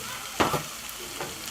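Mushrooms hit a hot pan of butter, onion and garlic, giving a brief sharp burst of sizzling and a stirring scrape, then a steady soft fry hissing close by.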